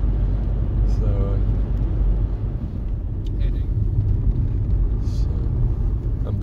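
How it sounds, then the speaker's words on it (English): A car rolls along small country roads in Denmark, a constant low engine and road rumble filling the cabin, with a few faint clicks and rattles on top. "I'm driving this way to get to Køge, and it is small roads all the way."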